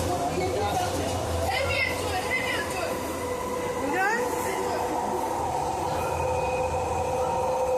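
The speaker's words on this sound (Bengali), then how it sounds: "ড্রাইভারলেস ট্রেন এটা, ড্রাইভার ছাড়া এই ট্রেন এগোয় লাইনের ওপর দিয়ে।" A driverless DLR train in London runs along its line with a steady rumbling roar and wheel squeal heard from on board, while voices chatter faintly under the continuous rail noise.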